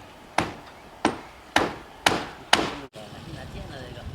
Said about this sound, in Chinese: 我只会用这个锤